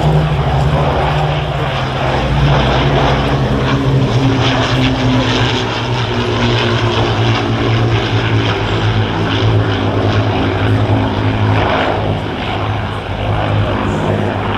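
Propeller aircraft flying a display at the RIAT airshow, a loud steady engine drone with a droning low hum that holds for the whole span, close and continuous with no talk over it.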